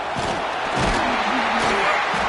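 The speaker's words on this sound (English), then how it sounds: "This crowd, full throat, splitting the eardrums and letting them know it's going to be a long day." A loud stadium crowd roars at a football game, a dense, sustained wall of cheering that stays full and even throughout, with a few louder bursts rising within it.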